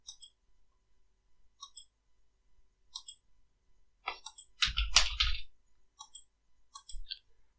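Sparse, faint key clicks from a computer keyboard, scattered singly across a quiet stretch, with a louder cluster of clacks near the middle and a few more toward the end.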